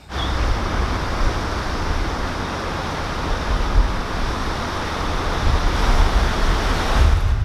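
Strong wind buffeting the microphone beside the Grand Union Canal, a loud, steady roar of broadband rumble and hiss with gusts that surge near the end, with no speech.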